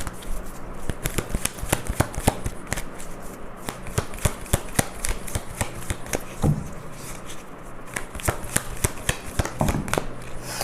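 A deck of energy oracle cards is shuffled in a steady run of rapid, crisp riffles and flicks, close up and continuous, with no one talking over it.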